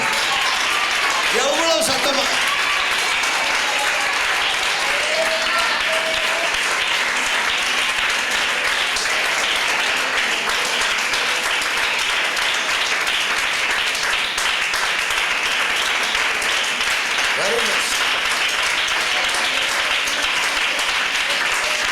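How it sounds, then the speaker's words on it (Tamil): A church congregation claps hands loudly and steadily for over twenty seconds, dense applause filling the hall while a voice speaks over it. "2 கரங்களை நல்லா தட்டி எவ்வளோ சத்தமா."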